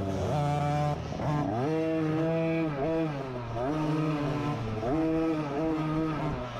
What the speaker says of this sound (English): It looks like Carter kind of spun out right here.